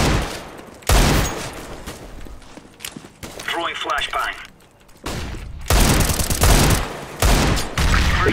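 AWP sniper rifle shots in CS:GO, several loud sharp blasts spread through a busy match with other gunfire, footsteps and voices talking.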